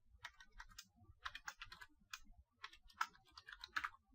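Python keylogger source code typed into Notepad on a computer keyboard: steady bursts of soft, fairly quiet keystrokes in irregular runs with short pauses, no talking.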